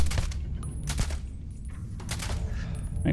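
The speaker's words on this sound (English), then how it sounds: "Let's get our hunting rifle out." Hunting rifle gunshots in Starfield, a few separate sharp cracks spread out over a few seconds against faint ambient game noise.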